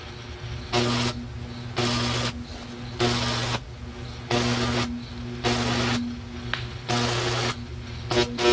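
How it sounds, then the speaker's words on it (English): Stick welding with small rods joins small metal pieces for a homemade landscape rake, a crackling buzz in about eight short bursts separated by quiet pauses, with a low steady hum underneath. "And now we start to weld. I am just stick welding for this because that's all I have."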